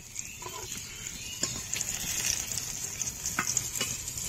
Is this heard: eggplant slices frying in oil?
yes